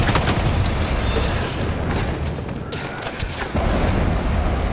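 Battlefield 1 multiplayer combat at Fort de Vaux: a thrown grenade's blast and gunfire ring out as dense, continuous battlefield noise with several sharp cracks and booms layered over a constant rumble.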